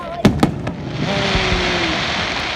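Fireworks go off at Poole Quay, a couple of sharp close bangs followed by a long crackling fizz and whistle, with voices faintly present.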